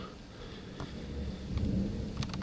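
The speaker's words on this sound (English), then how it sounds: "there's some awesome lightning going on out there" Thunder from a lightning storm in the Catskills, New York rolls as a low, sustained rumble that swells toward the end, heard from indoors by a window with faint rain-like hiss and a few light clicks.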